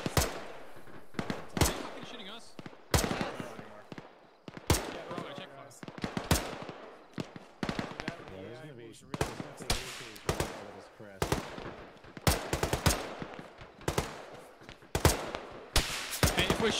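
Rapid bursts of gunfire fill a military tactical shooter game, with repeated sharp shots and automatic volleys crackling in irregular clusters throughout, loud and close, mixed with radio-style voices.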